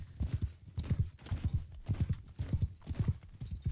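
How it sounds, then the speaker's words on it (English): Heavy horse hooves gallop in a fast, steady rhythm of repeated clip-clop beats in Mount & Blade 2: Bannerlord, loud and close, with no talking. "I love the noise of the horse."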